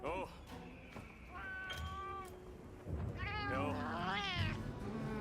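Cat meowing several times nearby, a few short mews followed by longer, wavering cries, heard alongside someone talking and game sounds in a room.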